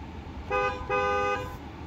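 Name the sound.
car horn honking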